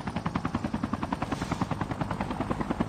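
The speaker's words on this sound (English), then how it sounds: "The helicopter coming." Helicopter in the game Call of Duty Mobile, a steady rapid rotor chop that thumps evenly and moderately loud throughout, with no talk over it.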